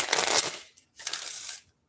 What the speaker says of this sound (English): I'm going to shuffle them real good